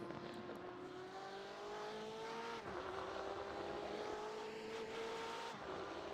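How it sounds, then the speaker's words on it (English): A pack of GT race cars passes in a long train, engines droning and rising through gears, with one car after another sweeping by in a continuous roar. "That's a lot of cars coming through there."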